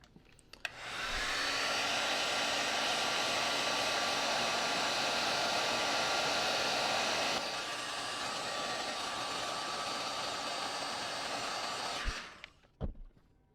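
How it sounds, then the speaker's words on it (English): A heat gun blows steadily as it shrinks heat-shrink tubing over a soldered wire joint. It is a loud, even roaring whoosh that switches on, holds with a slight drop in pitch partway through, then cuts off with a couple of small clicks. "I'm gonna hit it with the heat gun for a second to shrink it"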